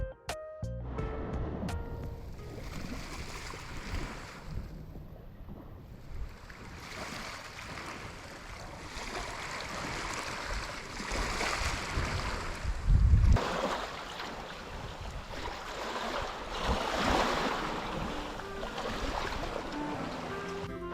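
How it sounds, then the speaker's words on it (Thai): Broad, steady wash of surf breaking on a white-sand beach on Koh Chang, Thailand, with gusts of wind noise, rising and falling in slow swells, one heavier surge midway; no voices. "ได้ยินเสียงทะเล ได้ยินเสียงคลื่นกระทบฝั่งนะครับ"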